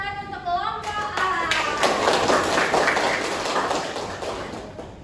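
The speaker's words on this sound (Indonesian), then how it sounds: "Tepuk tangan untuk kelompok A." Audience applause at a school guidance class presentation, a dense burst of many hands clapping that swells quickly and holds steady for several seconds, with a voice speaking briefly at the start.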